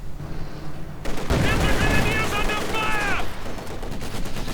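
Sniper shots and machine-gun fire from the video game Company of Heroes 2: a sudden loud burst of rapid gunfire and clattering battle noise, a ringing tone inside it, all over a constant backdrop of game ambience.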